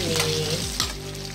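Chicken pieces frying in hot oil, a dense sizzle with stirring and clattering utensil sounds, close and continuous with no talk.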